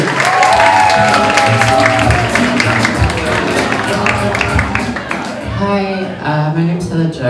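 An audience claps and cheers at a Pride comedy show, loud and sustained, as a voice talks over the applause.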